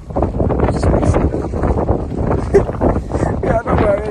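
Wind buffeting the microphone at a beach in Cornwall, a loud, continuous low rumble with gusty swells, while people talk underneath it.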